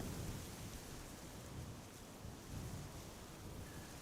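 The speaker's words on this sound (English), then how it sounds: "Starting to drizzle here." Rain shower with thunder at Amsterdam Schiphol airport: a dense, steady wash of rain noise with low rumbling swells, continuous and fairly loud, with no voices.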